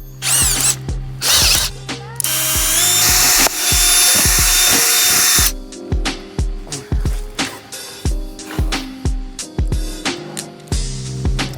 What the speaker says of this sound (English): I'm going to quickly drill 2 small holes